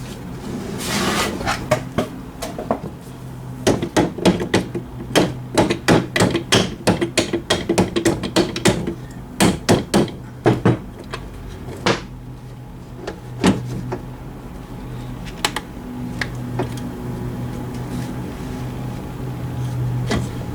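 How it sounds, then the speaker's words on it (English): Repeated sharp metallic knocks and taps from hammering the stock of a Mak 90 rifle forward, irregular bursts of close strikes with pauses between, no talking. "Hammer it forwards a little bit."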